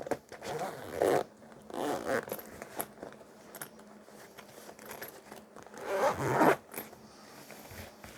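A bag zipper is drawn shut in several separate pulls, each a close, loud rasping zip with quieter handling rustle in between.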